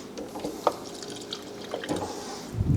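Extra water poured into garlic scape pesto in a kitchen, a soft trickling drip that runs faintly through the whole short moment, with a low thump near the end.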